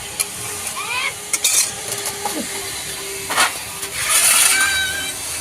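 Palak chicken is stir-fried in a pan with a steady sizzle and scraping spatula strokes, building to a brighter hiss near the end, close up and with no talk over it.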